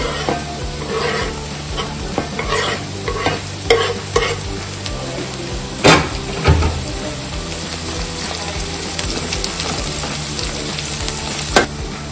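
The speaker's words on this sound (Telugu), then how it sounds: "ఆనియన్ బ్రౌన్ కలర్ వచ్చేంత వరకు మంచిగా ఫ్రై చేసుకోవాలండి" Onions and green chillies fry loudly in a pan, a constant close sizzle broken by scraping stirs and a few sharp clanks of the spoon against the metal, with no voices.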